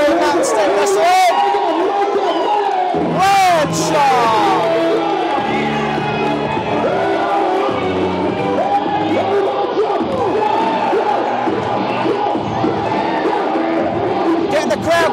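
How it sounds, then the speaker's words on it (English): A wrestling crowd at an NWA Mountain State Wrestling show cheers and shouts loudly throughout, with whoops rising over a ringside announcer talking. "Getting the crowd going here."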